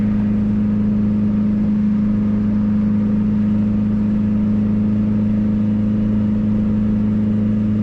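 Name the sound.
Honda Civic Si turbo accelerating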